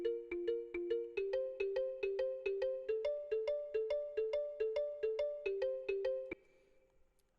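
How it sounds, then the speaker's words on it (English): A soft kalimba preset from the Hypersonic synth, EQ'd, plucks a steady, evenly spaced melody of bright, bell-like notes alone, then stops abruptly and leaves a faint tail. "I found something like a kalimba. A kalimba. This is what it sounds like."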